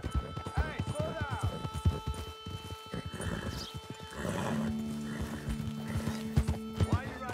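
Rhythmic hoofbeats of a horse galloping in Red Dead Redemption 2, with a whinny partway through, heard under a man's speech and other voices.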